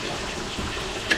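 Water pours steadily into a cooking pot in a restaurant kitchen, a soft continuous gushing, fairly faint and close, with a small splash near the end.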